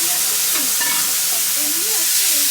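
Ginger and garlic sizzling in a pan with tomato, green chili and a pinch of cumin for vegetarian ghugni: steady, loud, close frying hiss with occasional stirring scrapes throughout.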